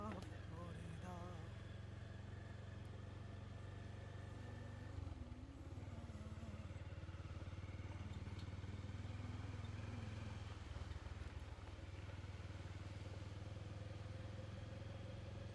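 A motorcycle engine hums steadily beneath the riders on the way to Saint Martin island, with faint rattling and wind noise and people talking over it.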